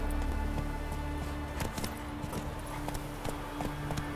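Roach the horse's hooves clip-clop in The Witcher 3, a steady run of close, sharp hoof strikes over a constant low background hum, with no voices in it.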